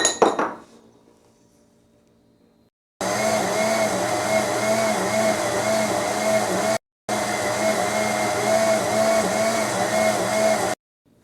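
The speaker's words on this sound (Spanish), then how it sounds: "Lo vamos a licuar todo por completo" A blender liquefying garlic cloves and a quarter onion runs as a loud, steady whir, stops for a moment and then starts again. Before it starts there is a brief clatter followed by silence.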